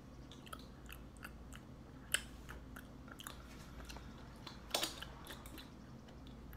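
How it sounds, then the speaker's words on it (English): Someone chews a Bean Boozled jelly bean close to the mic, making quiet, soft, wet mastication sounds with a couple of sharper clicking bites. No one speaks. "I really hate how I'm chewing this."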